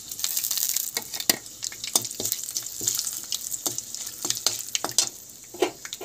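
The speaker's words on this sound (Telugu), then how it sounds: "ఇదిగోండి ఒక ఎండుమిరపకాయ వేస్తున్నాను" A dry red chilli sizzles in hot oil for tempering, a close crackling hiss punctuated by sharp pops and spits, steady and unaccompanied by talk.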